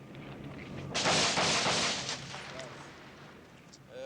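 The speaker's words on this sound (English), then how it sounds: "As gunfire echoed all around" A burst of distant gunfire in Beirut crackles and rolls for about a second, then echoes and fades into a rumbling outdoor background.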